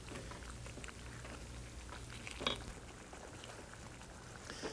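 Tomato sauce simmers in a pan over a medium flame, a soft, steady bubbling and patter that stays fairly faint throughout, with one brief louder pop partway through.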